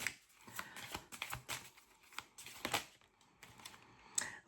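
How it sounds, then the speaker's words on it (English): Tarot cards being drawn and shuffled from a deck, a quick series of crisp papery slaps and flicks, close and fairly quiet, with no talking. "I'm going to pull a few more cards from the deck"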